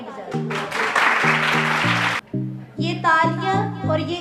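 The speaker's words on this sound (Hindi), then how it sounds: "इनके लिए तालियां बजाएं।" Audience members at a naat mushaira award ceremony clap in a brief burst that rises under a man's amplified speech and then fades as he keeps talking.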